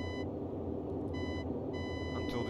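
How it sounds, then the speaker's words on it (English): Warning beeps sounding in a Boeing 247D flight simulator game, repeating in short bursts with brief gaps over a steady engine drone, no talking. "until the beeping stops"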